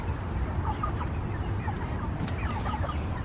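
A homestead flock of chickens clucking and murmuring in soft, scattered calls over a low outdoor rumble, nearby and continuous.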